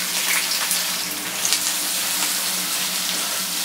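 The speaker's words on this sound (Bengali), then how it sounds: "পেঁয়াজগুলোর কালারটা পরিবর্তন হওয়া পর্যন্ত এগুলোকে একটু ভেজে নিব।" About one and a half cups of chopped onion frying in oil with spices while cooking a duck bhuna crackles with a dense, even sizzle, loud and close, unbroken throughout with no voices.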